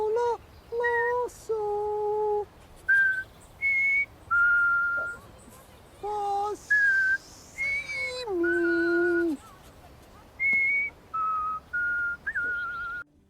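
A clear whistled melody of held and sliding notes in short phrases with brief gaps, close and steady throughout.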